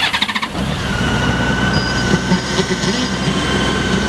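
A 2003 Honda Goldwing GL1800 Voyager trike being started: a brief rhythmic starter cranking, then the engine catches into a steady, smooth idle hum, close and fairly loud.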